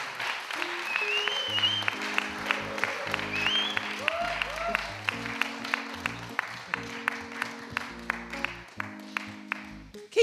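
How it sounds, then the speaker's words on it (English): A church congregation claps along in steady rhythm while organ or keyboard chords play, with a voice rising briefly above the music. "Keep clapping."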